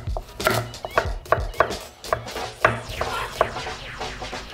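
A knife finely chops garlic and onions on a cutting board in quick, sharp, crisp taps at an uneven pace, loud and close, with no talking.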